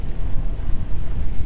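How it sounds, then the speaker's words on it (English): Choppy sea waves slap and rush around a sailing boat heading back to Split off Croatia. Heavy wind buffets the microphone in a continuous loud roar, with no voices. "Got some decent waves."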